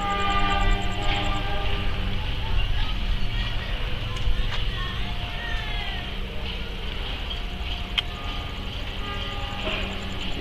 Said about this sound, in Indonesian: Jadi itu ada kereta lewat sih.